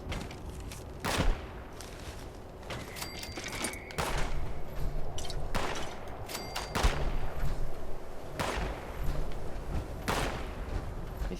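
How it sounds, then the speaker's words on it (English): Gunfire in Fallout 76: loud single shots and short bursts crack out irregularly over steady background game noise, with a couple of closer, sharper reports. "Who's shooting at me?"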